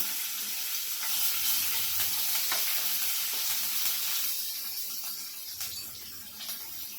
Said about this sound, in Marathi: आता कढीपत्ता टाकू कढीपत्ता टाकला की मिरची टाकायची आहे